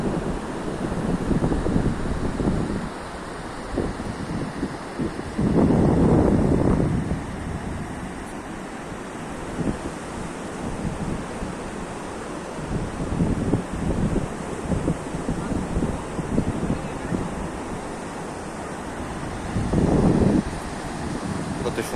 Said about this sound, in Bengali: কত সুন্দর ঢেউ